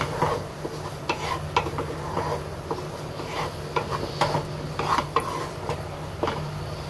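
Chhena sandesh mixture being stirred in a kadai while cooking, with irregular scraping and knocking of a spoon against the pan, moderately close and steady throughout, no talking.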